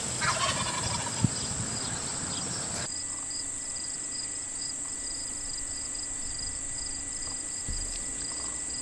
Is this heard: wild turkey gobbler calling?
yes